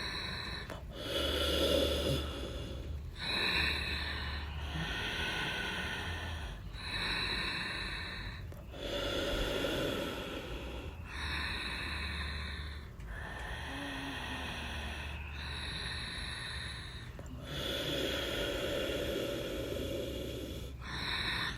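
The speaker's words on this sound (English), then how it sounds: "Breathing pranayama Ujjayi." Ujjayi pranayama breathing during an Ashtanga yoga home practice: slow, audible throat-constricted breaths alternate between long inhales and exhales in a steady rhythm, close to the microphone and with no talking.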